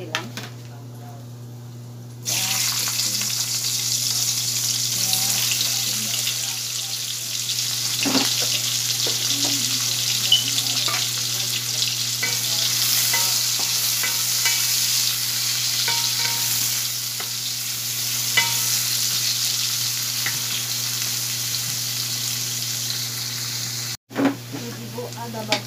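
Panch phoron five-spice sizzles steadily in hot oil during a fish curry cook, with scattered stirring scrapes and clinks over a constant broadband hiss, close and fairly loud, no talk.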